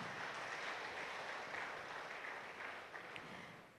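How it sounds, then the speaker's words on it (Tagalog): A church congregation giving a round of applause, a steady wash of many hands clapping heard from some distance, sustained and fairly faint throughout. "Let us give God a big, big round of applause."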